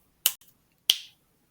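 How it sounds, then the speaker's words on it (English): Two crisp finger snaps recorded up close in a quiet room, the first with a faint secondary click, the second ringing slightly longer, separated by about half a second of silence. "So it records 2 seconds of me snapping"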